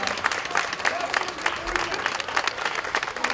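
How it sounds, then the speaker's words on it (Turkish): A crowd applauds children and young people at a centenary celebration. The clapping is steady and dense and carries on without a break, with voices heard over it. "Kocaman bir alkış Atatürk çocuklarına, Atatürk gençlerine"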